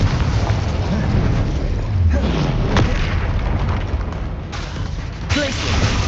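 Deep booming blasts from Confringo spells in Hogwarts Legacy, heavy and loud, with rumbling bursts that overlap as a voice calls out spell names.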